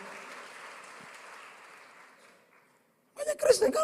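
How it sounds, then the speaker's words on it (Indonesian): A church congregation claps in praise to God, a steady wash of applause that thins and fades to silence before a voice starts speaking. "Tepuk tangan terbaik buat Tuhan."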